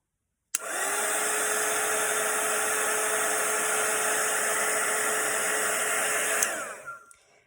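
A hair dryer blasts steadily and close for about six seconds while drying a wet watercolor painting, starting abruptly, then winding down as it is switched off.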